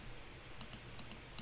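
Keys tapped on a computer keyboard while working in Fusion 360 design software, a few faint, sparse clicks spaced out over a quiet background hum.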